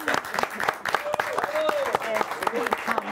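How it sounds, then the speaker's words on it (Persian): A studio audience on a Persian television talk show applauds a guest with dense, sharp hand claps close by that keep going steadily while people talk over them. "تشویقش کنید."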